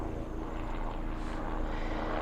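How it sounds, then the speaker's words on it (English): A helicopter flies over a backyard garden, its engine and rotor making a steady drone that stays constant throughout and fairly loud, with no talking. "helicopter."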